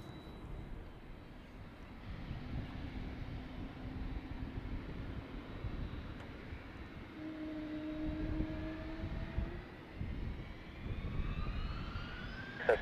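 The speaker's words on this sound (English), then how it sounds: "Gulfstream 6, Golf Alpha, runway 16 right, clear for takeoff" A Gulfstream G650 business jet takes off from runway 16 right, a steady broadband roar with a rising whine building over about thirteen seconds, heard from a distance without talk.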